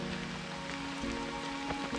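Rain falling on the shore of Loch Fyne, Scotland, a steady close hiss of drops pattering on surfaces, continuous and moderately loud with no one talking.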